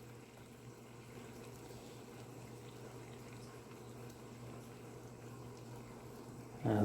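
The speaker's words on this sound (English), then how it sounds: "into the boiling water." Water boils steadily with a soft continuous bubbling hiss while a toy doll leg sits submerged in it, with a short louder burst of bubbling at the very end.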